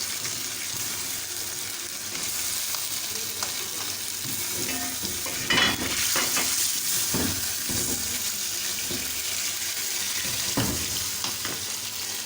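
Green chillies, five or six of them, sizzle and fry in a karahi of Balochi tikka masala, with steady crackling frying and repeated stirring scrapes throughout, close and fairly loud.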